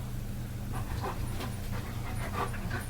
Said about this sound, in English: Chief, that is not me breathing. That's the 110-pound German Shepherd over here that just walked in the room